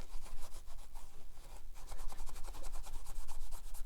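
A Scotch-Brite-backed sponge scrubs old gasket residue off an aluminum mating surface on a BMW 328i E90 N52 engine, a steady close rasping rub in quick back-and-forth strokes with a brief pause midway.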